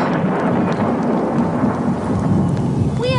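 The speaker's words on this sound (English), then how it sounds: "The rain around here never lasts long." Thunderstorm in an animated cartoon, with loud continuous rain and a deep rumble of thunder filling the whole stretch, and a short squeaky call near the end.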